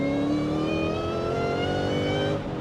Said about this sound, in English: It's actually gonna whine even more because we have to go up an incline.